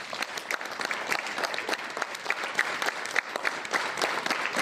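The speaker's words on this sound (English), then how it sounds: "Clap." A group at a school assembly claps hands together on a drill command, a dense steady patter of many hands sustained for several seconds at moderate distance.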